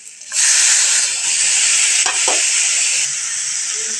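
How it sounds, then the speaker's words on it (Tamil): Tomato and mint sautéing in a pan with ginger-garlic paste and homemade garam masala for masala idli, a steady loud sizzle and hiss starting after a brief quiet moment, with a couple of short stirring scrapes midway. "தக்காளி நல்லா வதங்கட்டும்."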